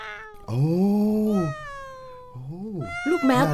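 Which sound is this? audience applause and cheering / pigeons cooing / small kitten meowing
small kitten meowing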